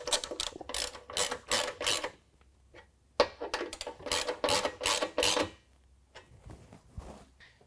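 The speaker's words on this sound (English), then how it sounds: "Now we can tighten up our center bracket." A hand ratchet tightens the center bracket bolts of stainless nerf bars on a 2019 Ram 1500 pickup, rapid clicking bursts in two close runs separated by a short pause, loud and near.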